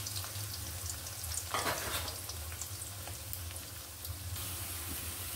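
Chopped onions, bay leaves and green chilies fry in hot oil in a pan, a steady low sizzle with a brief louder crackle as ingredients hit the oil.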